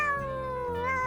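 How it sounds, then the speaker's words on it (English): A single drawn-out cat meow, loud and close, with a wavering pitch, heard alone over light background music. "It's a cat."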